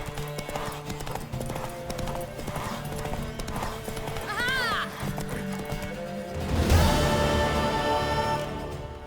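Rapid hoofbeats of a mare galloping in The Witcher 3 next-gen over steady game music, then a loud whinny near the end; a voice shouts encouragement throughout.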